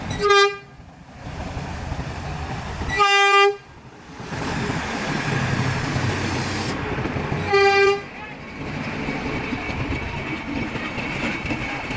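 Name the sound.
toy train passing with horn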